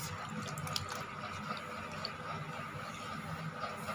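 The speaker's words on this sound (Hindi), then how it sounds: "और अब हम इसमें पानी डालेंगे" Water poured from a glass, about half a glass, into rava cheela batter in a home kitchen, a steady close trickle and splash running throughout without talk.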